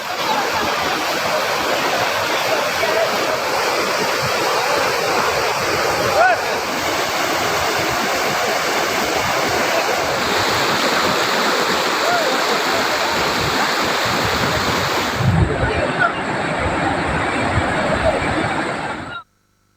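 A powerful waterfall in spate after heavy rain around Thoothukudi pours at great speed, a dense, steady roar of rushing water, loud and close throughout, dropping away sharply at the very end.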